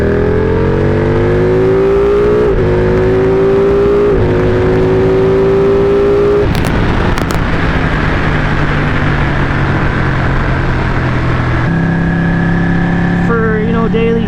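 A Ducati 1199 Panigale motorcycle engine runs loud and close, its pitch rising steadily as revs climb, with brief gear-change dips, a lower steady drone and someone talking over it.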